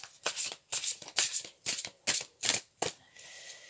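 Large tarot cards being shuffled by hand, a series of quick crisp riffles and slaps coming in bursts with short pauses between them, close and fairly quiet with no voice.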